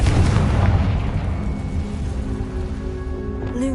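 A Confringo spell explosion in a Hogwarts video game opens with a heavy booming burst, followed by a rumbling, crackling decay over a few seconds.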